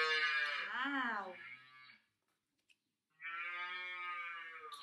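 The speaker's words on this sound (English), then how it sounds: "Cow." Two drawn-out cow moos ring out clearly against silence, the first with a wavering bend in pitch, the second steadier, separated by a pause of about a second.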